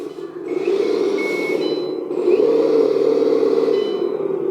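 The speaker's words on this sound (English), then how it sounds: "Sound of reversing" Reversing beep effect from a hydraulic XDRC 6x6 RC articulated truck, a steady electronic beeping tone over a constant motor whir, close and fairly loud, with no talking.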